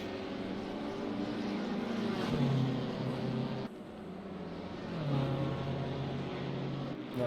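Racing car engine at Misano in a racing video game, a loud continuous engine drone that swells as the car accelerates onto the back straight, with a brief dip partway through as it keeps pulling hard.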